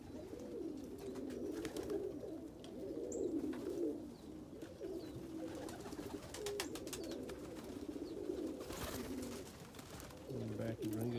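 Indigo ball head roller pigeons cooing in snowy weather, a steady low warbling coo that rises and falls continuously, close and moderately loud, with scattered faint clicks and rustling.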